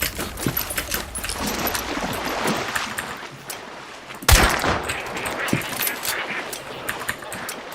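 Rapid bursts of gunfire from the Hunt: Showdown video game, a string of sharp cracks and rattling shots with one heavy blast standing out midway, set against a busy background.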